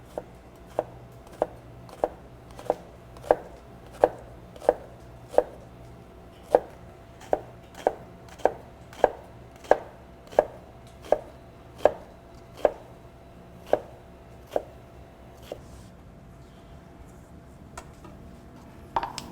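Steady knife chopping an onion on a cutting board, about twenty sharp even knocks at a regular pace, close up and alone, then it stops.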